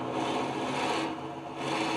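A drill bit bores slowly into a piece of salvaged wood spinning on a lathe at 500 RPM, a steady, close grinding rasp that holds constant without a break, alone with no voices.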